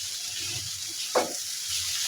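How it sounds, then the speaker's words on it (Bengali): Potatoes and onion for aloo bhaji fry steadily in a pan with an even close sizzle, broken by one brief stirring scrape near the middle. "পেঁয়াজটা দিয়ে আমি আরেকটু কিছুক্ষণ ভেজে নেব"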